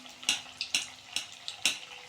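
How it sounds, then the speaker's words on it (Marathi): Small pea puris fry in hot oil over a low gas flame, giving a soft continuous sizzle broken by four sharp, evenly spaced splashing crackles, close up with no talking. "बारीक गॅसवरच तळणार आहे मी"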